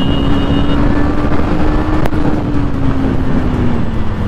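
Motorcycle engine on an empty road, a loud continuous drone with a steady pitch that slowly drops, heard close up and with no talk.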